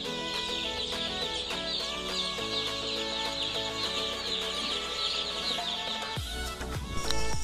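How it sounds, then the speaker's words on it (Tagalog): A crowded flock of 45-day-old broiler chickens makes a constant, busy chorus of high peeping and clucking, loud and close throughout. "Marami po kaming kasabay na umorder ng mga sisiw ng 45 days."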